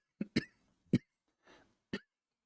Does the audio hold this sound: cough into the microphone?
yes